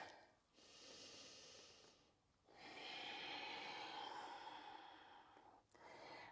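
Slow, audible breathing during a yoga hamstring stretch in a pyramid pose: a long exhale, then a longer drawn breath, then another, close and fairly quiet, with no talking.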